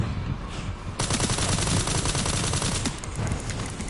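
A gun fires a full magazine at a blister head enemy in Resident Evil 9 Requiem. After a brief lull, a loud, sustained stream of rapid shots runs unbroken for about three seconds with no talking.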